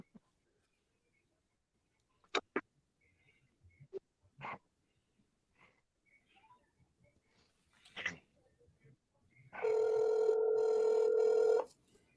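A telephone rings once near the end in a single loud burst of about two seconds. Sparse soft clicks and faint scattered noises come before it in an otherwise quiet room.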